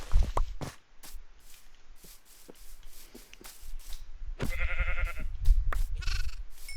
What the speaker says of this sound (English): Yes, good sheep.